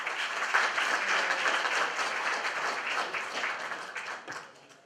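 An audience at an Azerbaijan presentation night in South Korea applauds a welcomed diplomat with a steady patter of clapping, fairly faint and even, tapering off in the last second.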